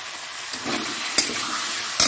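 Tomatoes fry in a wok with a constant close sizzle while being stirred, with a couple of sharp spatula scrapes against the pan and no talking.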